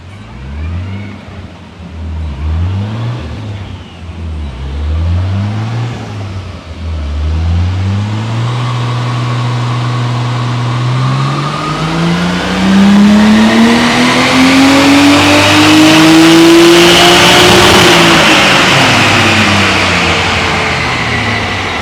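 A Nissan S13 drift car with an RB25 engine revs on a dyno, climbing through repeated pulls before a long sustained rise in pitch to a loud peak, then easing off, close and without talk.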